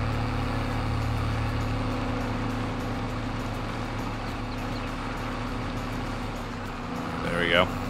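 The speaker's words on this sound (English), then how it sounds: "I think this is actually the first time I've actually used this tractor in the game." A tractor engine in the Farming Simulator game hums steadily at idle with a constant tonal drone throughout, moderately loud and close, with a brief higher whine near the end.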